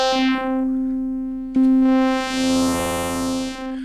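FM feedback from a Sonicware Liven Ambient Ø synthesizer: a strong buzzing tone rich in overtones swells and turns harsher and noisier, with a sudden jump in brightness partway through.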